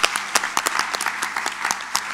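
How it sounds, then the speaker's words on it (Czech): A studio audience at a talk show applauds steadily, a dense run of many claps close and loud throughout with no voices over it. "Takže teď tleskáme my vám."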